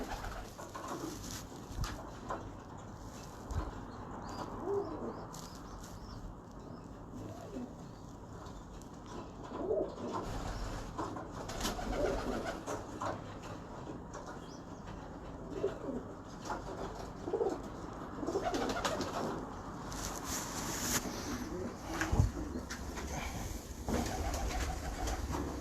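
Breeder pigeons coo steadily in a loft, low murmuring calls overlapping in a continuous, moderately close chorus with faint background rustle.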